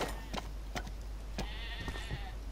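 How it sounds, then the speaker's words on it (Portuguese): Sheep bleat in the Dino D-Day shooter game, several short, faint cries at a steady pace over a low background hum, with no talk over them. "E porquê estamos a ouvir ovelhas?"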